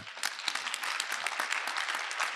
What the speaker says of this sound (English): let's give a big round of applause for these guys